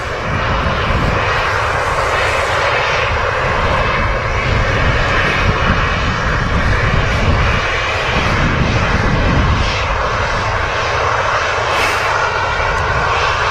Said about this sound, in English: another EasyJet off to Turkey